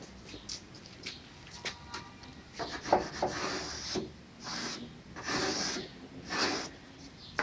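Contact cement is spread over both faces of a kitchen corner cabinet part, giving soft, uneven rubbing and scraping strokes in irregular bursts, fairly close but quiet, with no voices.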